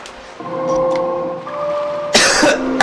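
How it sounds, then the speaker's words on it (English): Two harsh coughs burst out close by, one after the other near the end, over a steady musical tone with a faint background hum. "I'll try not to cough and splutter too much on the stream."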